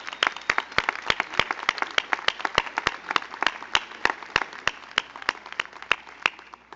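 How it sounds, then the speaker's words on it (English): At a college commencement ceremony, sharp, evenly spaced claps ring out at a steady rhythm of about three per second, moderately loud and sustained. "let's give them and their teammates a big Scotty cheer."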